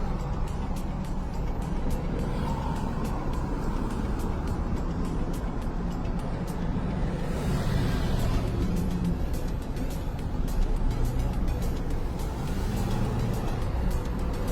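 Steady road traffic in downtown Toronto at lunch hour, a continuous broadband rumble of cars and heavier vehicles with a slightly louder pass near the middle, no voices over it.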